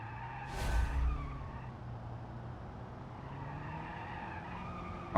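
Tires skid and wheels spin off the line in BeamNG.drive, a loud squeal rising near the start and then a steady engine and tire roar that continues throughout.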